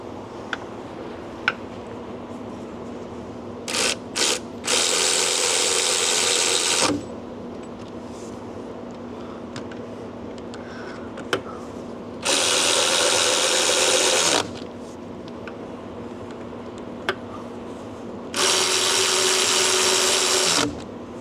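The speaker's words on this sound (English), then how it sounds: "let's get our handy dandy little ratchet here" A powered ratchet tightens a new engine fan on a Freightliner Cascadia truck at the roadside, firing in three loud bursts of about two seconds each, with quiet clinks of tools between them.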